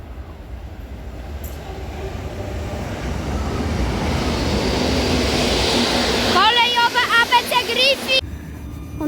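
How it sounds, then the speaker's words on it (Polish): Two coupled ED74 electric units running as the Intercity Szymdzielnia pull into a station, a rising rumble of wheels and motors building to a loud roar, then squealing brakes near the end. "Wjeżdża pociąg Intercity Szymdzielnia ze stacji Ustka do stacji Bielsko-Biała Główna"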